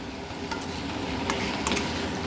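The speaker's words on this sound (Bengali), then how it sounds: "মশলার সাথে সবজিগুলো ভালো করে নাড়াচাড়া করে ভেজে নেব আমরা" Fried vegetables being stir-fried into a spice paste in a pan, producing a continuous close sizzle with a few sharp scraping stir strokes.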